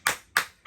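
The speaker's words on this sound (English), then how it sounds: "Let's give him a clap." Three quick, crisp hand claps in a steady rhythm, close and isolated, a small round of applause for a semi-pro footballer guest.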